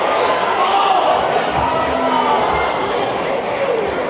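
A crowd in a gym at a Lady Rangers vs Lady Bulldogs basketball game yells at a foul call, a loud steady roar filling the whole stretch while a commentator talks over it.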